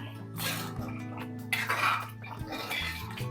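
A pot of vegetable soya curry with potatoes is stirred, giving soft scraping and a few light metallic clinks of a spoon against the pot over a low hum, close and quiet.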